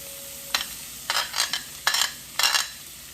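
Onions cooking slowly in a pan over low heat to caramelize, heard as short bursts of sizzling and stirring that come in four separate scrapes against a quiet background, with no talking.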